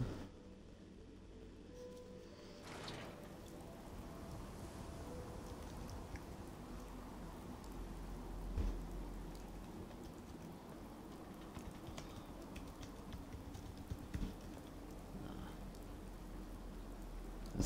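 Steady rain at night in the video game Fallout 4, a continuous broadband hiss of drops falling on surfaces. It stays constant and fairly loud throughout, with a brief thump in the middle and no talking.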